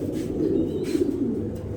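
Grizzle male racing pigeons cooing nearby, soft low throaty coos rolling over each other in a short continuous burst.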